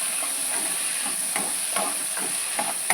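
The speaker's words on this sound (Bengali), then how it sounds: "এবার এটাকে ভালো করে ভেজে নেব।" Taro frying in a pan with previously fried prawns, a steady bright hiss of sizzling oil with occasional soft stirring scrapes and small pops, close and without talk.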